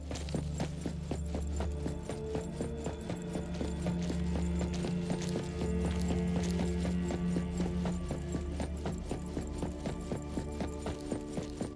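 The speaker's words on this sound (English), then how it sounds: "I can hear like really sloppy footsteps, but I can't see where it is." Sloppy footsteps in the horror game Neverness to Everness thud in a steady, heavy rhythm under a dense, droning ambient bed throughout.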